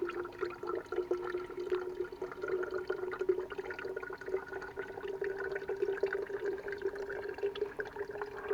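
Water trickles steadily from the tap of a homemade gravity water filter that is opened only an eighth of the way. It makes a faint, even, continuous flow into a bottle or water container, with no voices.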